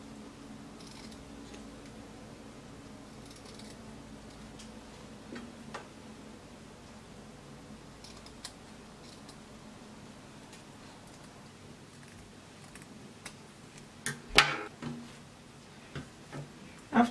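Scissors snip through dress fabric while cutting close to a stitched seam for a princess-cut dress with puffy sleeves. The cutting is faint and irregular over a low steady hum, with a few sharper snips near the end.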